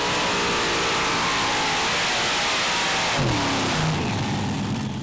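A 4.5-ton class pulling tractor at a Eurocup event in Herning, Denmark, its blown engine roaring loud and continuous with a rising rev sweep near the end, heard alongside a dense, noisy crowd-and-arena wash.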